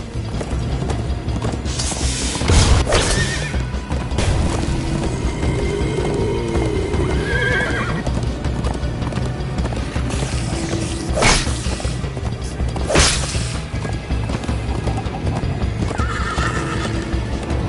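Horses gallop and neigh in the Minecraft Story Mode video game, with steady hoof clatter throughout, loud whinnies standing out near the start and twice more later, and mechanical clanks amid game sound.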